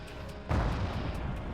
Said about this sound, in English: Sexton is still landing shells around the base.